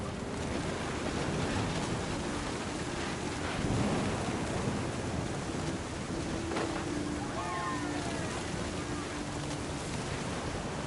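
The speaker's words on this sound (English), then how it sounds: "The thunder sounded much too close and full of angry power." Thunderstorm with heavy rain in What Remains of Edith Finch, a dense steady roar of rainfall with low rolling rumbles of thunder swelling underneath, continuous and close.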